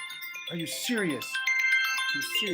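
A mobile phone ringtone plays a bright, repeating electronic melody, interrupted by a voice speaking over it.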